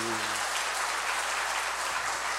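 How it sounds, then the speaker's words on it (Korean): Applause from a church congregation at a testimony by comedian-turned-pastor Kim Jeong-sik, an even, moderate wash of clapping after a brief low tone at the start. "그럼 박수 한번 보내주세요"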